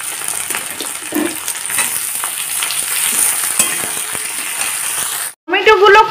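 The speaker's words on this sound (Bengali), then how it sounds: "পেঁয়াজটা হালকা ভাজা হতেই এখন দিয়ে দেব কুচানো টমেটোগুলোকে" Chopped tomatoes drop into onions frying on a high gas flame, giving a steady close sizzle with stirring clatter that cuts off near the end, then a short burst of fresh hissing.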